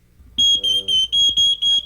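A smoke detector alarm sounds a rapid series of six loud, piercing electronic beeps, evenly spaced and close.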